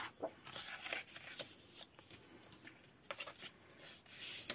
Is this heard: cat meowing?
no